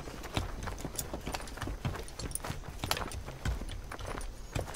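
Horse hooves clip-clop steadily in Assassin's Creed Valhalla, a brisk repeating walking rhythm up close, mixed with faint ambient game sound and no talk.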